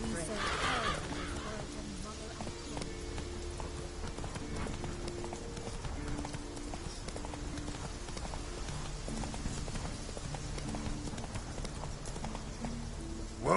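Horse hooves clip-clop steadily in The Witcher video game, a continuous rhythmic trot heard up close over a game music bed, with occasional crow caws in the background.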